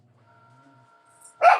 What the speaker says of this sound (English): You can hear the puppies barking?